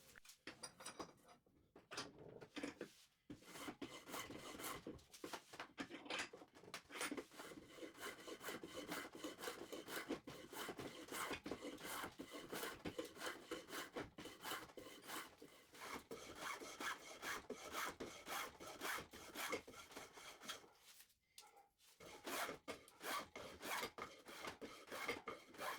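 Spokeshave shaving and rounding wooden spokes for a handmade stool, a steady run of rasping, scraping strokes with short pauses, close and alone.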